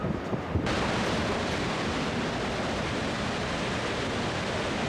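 Niagara Falls, on the border of Ontario and New York, sends down a continuous, dense roar of rushing water that swells in after a brief quieter start and holds steady and loud.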